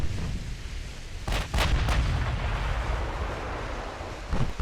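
Heavy 16-inch naval guns boom in a naval warship battle game, a quick cluster of two or three deep blasts followed by a later lighter report, over a steady rumbling sea-and-wind ambience.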